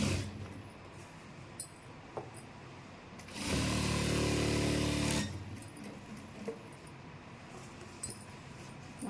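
Sewing machine stitching a chudidar pant, one steady burst of about two seconds standing out from quiet room noise, with a few small clicks and taps of handling cloth before and after.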